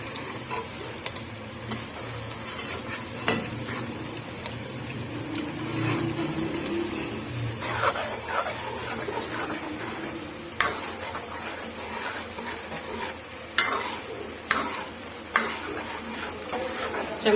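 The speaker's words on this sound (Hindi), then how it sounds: "चम्मच साथ साथ आप चलाते रहे ताकि आपके दही के गुठलियां ना बने।" A spoon stirs and scrapes around a pot of mutton masala with added yogurt for Sindhi biryani, bringing a soft sizzle and a string of uneven metallic taps and clinks against the pot over a steady cooking hiss.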